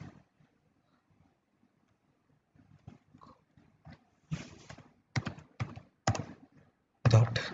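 Typing on a computer keyboard, sparse soft taps at first, then several louder clustered bursts of key clatter close by, with quiet gaps between.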